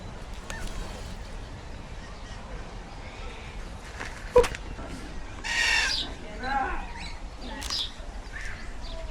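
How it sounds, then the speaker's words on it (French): A few soft chicken calls in New Zealand, including a brief squawk, over a low background murmur and occasional voices. "Oh les poules."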